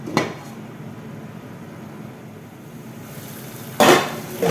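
A spoon scrapes and knocks against a cooking pot of shahi chicken kurma, with a sharp clink at the start, then quiet stirring, and a louder burst of clattering near the end.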